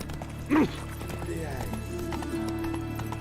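A horse trots along in the video game Witcher 3, soft rhythmic hoofbeats under a steady background bed, while a brief voiced cry rises over it early on.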